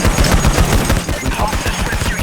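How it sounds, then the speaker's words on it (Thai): Rapid automatic gunfire from a weapon in the heist shooter Payday The Heist rattles loud and close in a steady burst of repeated shots. "เดี๋ยวเราใช้ปืนนี้แล้ว"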